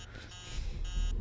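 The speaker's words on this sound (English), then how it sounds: "Dumb alarm." An electronic alarm beeps in two short, high-pitched tones, faint and indoors, against a low background rumble.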